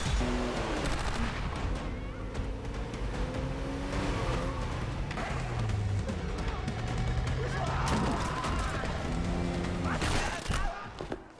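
Bursts of gunfire ring out during a Alice in Borderland season 2 scene, rapid shots and impacts mixed with engine noise and dramatic score, with people talking over the action.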